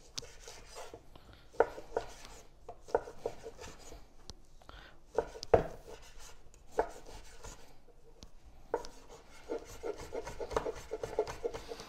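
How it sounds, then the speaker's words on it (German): A knife taps repeatedly on a cutting board in quick, uneven chops, cutting chorizo into small cubes, close and fairly quiet, with brief pauses between bursts. "Die schneide ich mir jetzt einfach in kleine Würfel."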